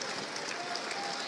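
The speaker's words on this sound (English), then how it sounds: "Applause" Basketball fans at an NCAA conference championship game applaud in a brief, even burst of crowd clapping beneath a broadcast voice.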